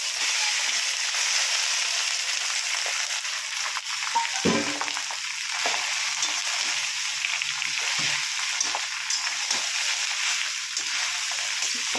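Cooked rice goes into a pan of hot oil on low gas and is stirred, a dense continuous frying hiss with a brief thump as it drops in, followed by repeated light scraping strokes.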